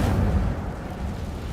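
An Incendio fire spell cast in the video game Hogwarts Legacy, a loud, dense whooshing burst of flame that stays steady and rumbling with a deep low end.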